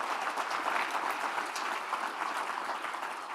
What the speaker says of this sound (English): If we can give them ask them to stand and give them a round of applause.